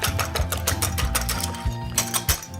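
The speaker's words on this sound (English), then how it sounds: "And now we're just going to whisk all this together." A whisk beats coconut cream pie filling ingredients in a bowl, giving quick, close, rhythmic clinks and scrapes repeated steadily.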